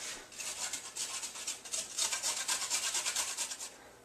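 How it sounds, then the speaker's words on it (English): Carrots rubbed finely against a grater make a soft, rhythmic rasping, repeated scraping strokes close by and fairly quiet, with no talking. "I'm going to chop the end off the carrots. I like to grate them fairly fine"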